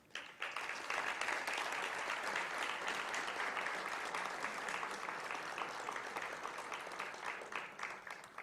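An audience at a financial law congress applauds Professor Francisco Pedro Jucá as he is honoured, with sustained, even clapping that starts abruptly and tapers slightly near the end.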